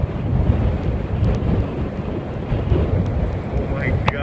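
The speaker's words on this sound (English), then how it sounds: "It's so windy." Strong, high wind blasts across an open outdoor site where a paramotor (Ozone Fazer wing) is being flown, a loud continuous roar of buffeting gusts rushing over the microphone with no pauses.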